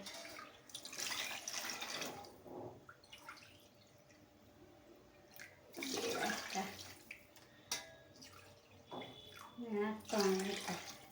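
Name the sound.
water being poured into pot of sama rice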